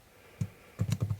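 Close computer keyboard typing: one isolated keystroke, a pause, then a quick run of four or five soft clicks in a quiet room.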